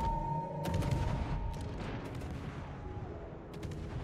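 Naval guns on the destroyer Småland firing in a World of Warships clan battle, rumbling booms and crackling shots layered over constant engine and sea noise, with a few sharp bursts toward the end.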